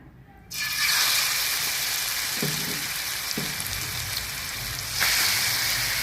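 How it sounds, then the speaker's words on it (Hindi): Chicken pieces dropped into a pan of hot oil, about four to five tablespoons, crackle into a loud, steady sizzle that starts abruptly and holds throughout, with a few soft clatters and a fresh surge of spattering near the end. "एक पैन में मैंने 4 से 5 टेबलस्पून जो है ऑयल को अच्छी तरह से गर्म कर लिया है। अब हम इसमें चिकन डाल देंगे।"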